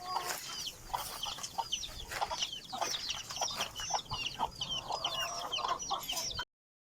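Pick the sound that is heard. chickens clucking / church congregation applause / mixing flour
chickens clucking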